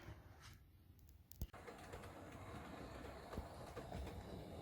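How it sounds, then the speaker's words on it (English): Hornby Peckett B2 0-6-0ST model steam locomotives pull a six-coach Mark 1 train on a model railway, with a continuous low rumble and faint rhythmic clicking of wheels on track, a few sharp knocks, and no speech. "We've got Sherwood now pulling a 6 coach Mark 1 train"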